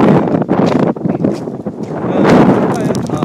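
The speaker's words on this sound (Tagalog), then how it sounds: "malakas ang hangin" Strong typhoon wind in Japan buffets the microphone in loud, roaring gusts that rise and fall, with talk faintly mixed underneath.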